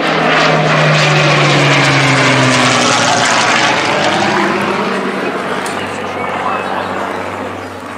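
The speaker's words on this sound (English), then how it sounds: "Gives you goosebumps, doesn't it, that Rolls Royce engine?" A Rolls-Royce engined vintage aircraft of the Battle of Britain Memorial Flight roars past at an Armed Forces Day parade, a loud sustained propeller drone with a falling pitch that fades slightly as it passes.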